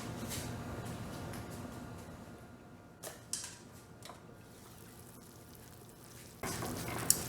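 Nigerian red palm oil heating in a cooking pot hisses with a faint, steady frying crackle, broken by a few brief louder clicks and bumps.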